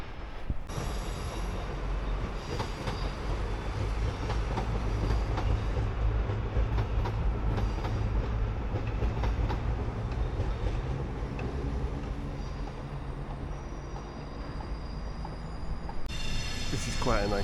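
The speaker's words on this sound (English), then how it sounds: "there's just a train pulling into the station" A train pulls into a station near a canal under a rail bridge, a steady loud rumble with faint clatter and high wheel squeal, ending in a brief hiss.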